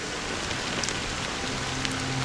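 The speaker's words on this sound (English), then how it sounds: "But it's still raining." Rain falling in the Honkai: Star Rail video game, a steady, even hiss of drops on surfaces that continues throughout, with a faint sustained tone entering partway through.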